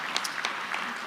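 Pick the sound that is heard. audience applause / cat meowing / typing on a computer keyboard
audience applause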